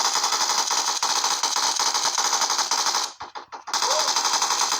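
Rapid automatic gunfire in a Metro video game, a continuous rattling burst that cuts out briefly near the end with a few separate shots before resuming, loud and close.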